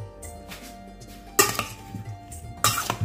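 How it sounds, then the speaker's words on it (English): Parboiled potatoes tumble into a metal roasting tray with rosemary, giving two sharp clattering bursts of pan and cutlery-like clinks close by, with a faint background hum and no talk. "I'm adding the parboiled potatoes."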